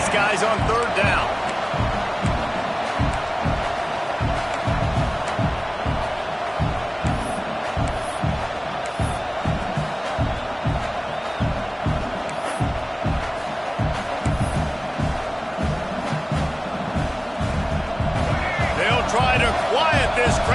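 A college football stadium crowd roars and cheers continuously on a fourth down, a dense wash of noise beneath steady commentator speech throughout.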